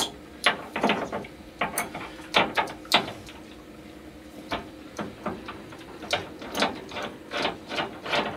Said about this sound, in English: to open the tank up, I've got a socket I put on this plug here and take that out